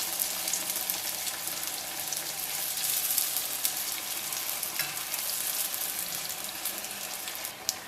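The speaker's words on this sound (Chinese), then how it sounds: "起锅烧油，油温达到7、8成热，下入油条生坯。" Youtiao dough sticks dropped into oil heated to about 70–80 percent, giving a steady, close hiss of bubbling and sizzling with scattered small crackles.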